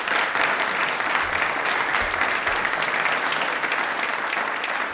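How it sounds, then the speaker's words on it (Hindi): A studio audience at a DD Rajasthan quiz show applauds enthusiastically, a thick, continuous wash of clapping that holds steady from start to finish. "तो तालियां अपने लिए बजा दीजिए जोरदार वाली बात"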